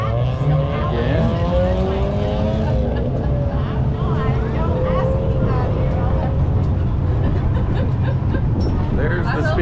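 Race cars running an autocross course at Bristol Motor Speedway during Power Tour 2023, engines droning and rising in pitch at a distance, heard under nearby people talking.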